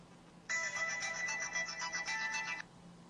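Phone ringtone sampled from a tone settings menu, a bright electronic melody playing clearly for about two seconds, then stopping abruptly.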